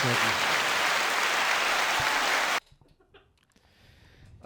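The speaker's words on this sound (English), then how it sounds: "Let me give you a round of applause." Applause on a comedy podcast, a loud, dense burst of clapping that stops abruptly after about two and a half seconds, followed by quiet room sound with faint voices.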